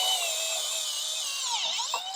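A power drill fitted with a new bit whines steadily while enlarging factory holes on a Jeep Gladiator during lift installation, a high continuous tone that dips briefly under load near the end.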